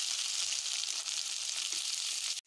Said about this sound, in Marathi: आता हे बघा याच्यामध्ये टमाटे घालूया।